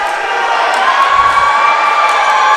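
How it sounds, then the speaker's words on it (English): A Firehawks crowd at a college volleyball match between the University of Mobile and Tennessee Southern reacts to an overturned call, a loud, steady roar of shouting voices filling the gym. "You hear the reaction from the Firehawks crowd."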